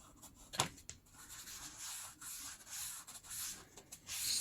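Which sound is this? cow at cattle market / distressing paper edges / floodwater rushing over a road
distressing paper edges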